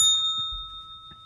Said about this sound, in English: Every time you hear a bell, another Canadian gets their wings.